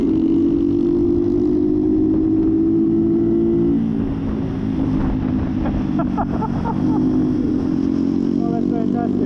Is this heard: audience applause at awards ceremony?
no